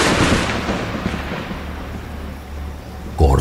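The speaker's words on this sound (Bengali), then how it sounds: "কড়কড় শব্দে দূরে কোথাও বাজ পড়ল" Thunder cracks and rolls in the distance as a long, rumbling crackle that slowly fades, then a sharper, louder burst strikes near the end.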